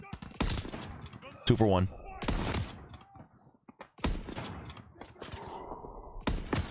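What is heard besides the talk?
gunfire in the video game Call of Duty WWII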